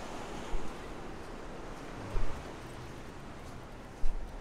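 Ocean surf rolling onto an open beach at Myrtle Beach, South Carolina, a steady, broad wash of waves mixed with wind buffeting the microphone, with a few brief bumps.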